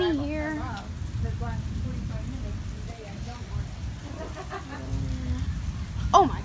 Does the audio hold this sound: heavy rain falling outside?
yes